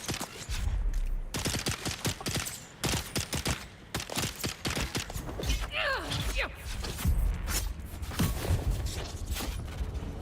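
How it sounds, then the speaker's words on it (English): Rapid bursts of video-game gunfire aimed at the player, dense cracks and thumps in quick succession with brief gaps, loud and close throughout, under occasional speech. "Both of y'all shooting me."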